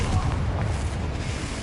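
Confringo explosive spell blast in the Hogwarts Legacy video game, a dense, continuous booming rumble that holds steady and loud through the whole short stretch, heavy in the low end with no break.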